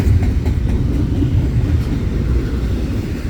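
CPKC double-stack freight train departing Dorval in the rain, a loud, close, steady low rumble of rolling cars with faint rhythmic clacks.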